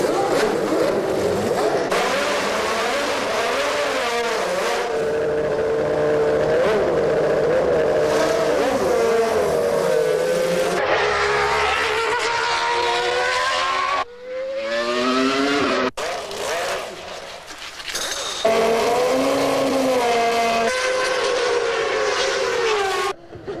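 A 1993 Williams FW15C Renault Formula One race car engine screams at high revs, its pitch climbing and falling through repeated gear changes, with brief dips and lifts of the throttle; loud and close, no talk.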